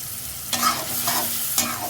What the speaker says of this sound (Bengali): আমি 2-3 মিনিট ভাজিয়ে নিব।